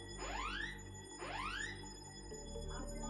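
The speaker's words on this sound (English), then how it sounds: "the apartment management is testing the fire alarms." Apartment building fire alarm under test, sounding as rising electronic whoops repeated about once a second over a steady background hum, moderately loud and somewhat distant.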